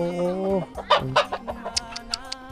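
Chickens cluck in short, choppy bursts close by, after a drawn-out vocal call at the start.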